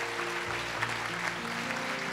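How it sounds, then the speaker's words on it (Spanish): Congregation applauding in a church service, a steady continuous wash of clapping that holds throughout at a moderate level with faint voices underneath. "Dar un aplauso al Señor por eso."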